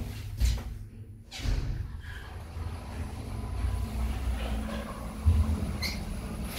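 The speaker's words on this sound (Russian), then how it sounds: "Движение вверх. Двери закрываются." Doors of an Otis Gen2 elevator from 2015 in a Minsk metro station slide shut with a soft mechanical whoosh and a low thump, followed by steady hum of the moving car and a final bump.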